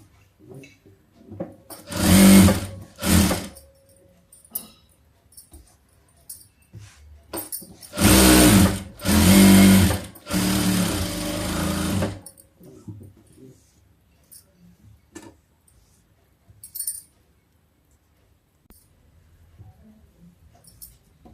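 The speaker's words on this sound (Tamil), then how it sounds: "இப்போ படிமான் தையல் போட்டுக்கலாம்." A sewing machine stitches a hem near the sleeve of a blouse in a few short, loud bursts of whirring, separated by long quiet stretches with faint handling sounds.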